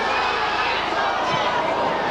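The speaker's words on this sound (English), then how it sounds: "The crowd doing their best to lift the spirits" Football crowd at Boundary Park in 1998 during a Bristol City versus Oldham match, a steady broad murmur and roar of many voices filling the stands, constant and fairly loud throughout.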